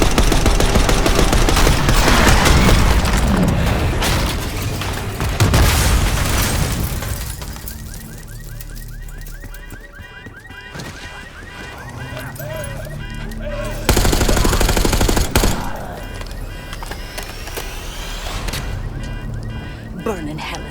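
Gunfire erupts in a Call of Duty: Black Ops 6 cutscene as a limo comes down a street, loud bursts of rapid shots and booming impacts over dramatic score, with voices shouting among the shots.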